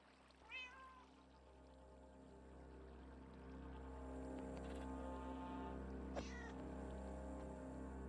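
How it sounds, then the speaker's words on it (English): A hurt cat meows in the Minecraft video game, one short faint mew early on over a steady low hum and quiet background sounds, with a soft click later. "You hurt the cat."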